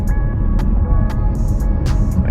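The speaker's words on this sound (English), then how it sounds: "The only thing that you really hear is just the road from the tires" Steady low rumble of tire and road noise heard from inside a moving 2022 Chevy Malibu, with a few faint ticks and clicks in the cabin and no talking.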